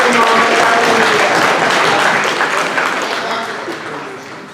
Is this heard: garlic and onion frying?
no